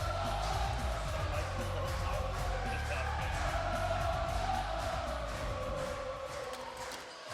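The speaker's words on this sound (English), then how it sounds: "Listen to this crowd." At a PBA King of the Lanes Empress Edition bowling event, an arena crowd cheers and yells in a steady, dense roar, with a commentator talking over it.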